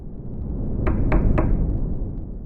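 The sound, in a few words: knocking on a hotel room door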